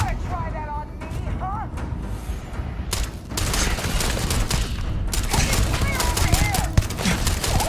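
Rapid bursts of gunfire in the video game Starfield, loud and sustained over a dense game soundscape with sharp repeated shots and booms, with a voice talking over parts of it.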